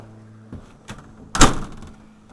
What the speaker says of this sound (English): We're going to lock the door.